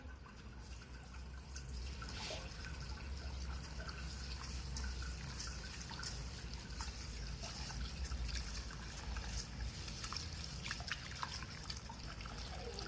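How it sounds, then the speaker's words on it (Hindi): Rice is washed in water, making a faint, continuous trickle and slosh with small drips, close by and steady throughout. "और मैं चावल धोवांगी"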